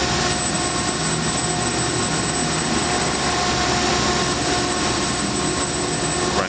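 A 2007 Park Industries Titan CNC router traversing its gantry, producing a continuous loud mechanical drone with a faint high whine held steady throughout, no voices.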